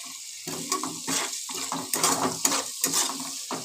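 Masala with Kashmiri chilli powder, cooked for a taro greens dish, is stirred in a frying pan, making close, rhythmic bursts of scraping and sizzling that come in quick strokes, with no voice heard.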